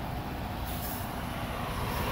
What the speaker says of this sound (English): That's a big 18-wheeler,